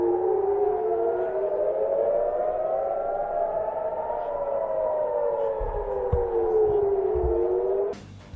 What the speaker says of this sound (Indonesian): Sirine serangan udara mulai berbunyi di kota pelabuhan Haifa.